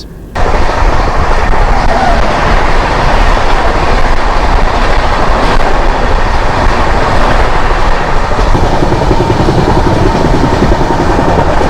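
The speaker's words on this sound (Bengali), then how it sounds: "আমাদের ট্রেন বিনা জংশন থেকে ছাড়লো" The Howrah–Indore Shipra Express rumbles steadily along the track after leaving Bina Junction, a continuous loud rolling roar with wheel clatter and no talk.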